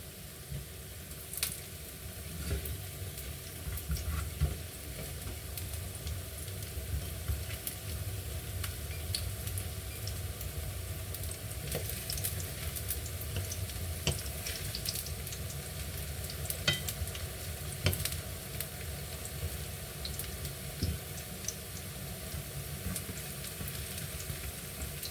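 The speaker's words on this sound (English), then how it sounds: "I have to turn these plantain over. Make sure they're not fried too much." Plantains fry in a pan with a steady, moderate sizzle and crackle, close by, with occasional sharper pops and stirring scrapes and no talking.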